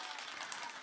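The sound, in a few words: children clapping in church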